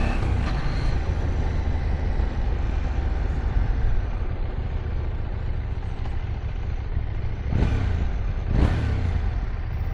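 Husqvarna Svartpilen 801 motorcycle with its standard exhaust in sport mode, a steady, close engine drone with a deep low rumble throughout and two quick revs near the end, no talking.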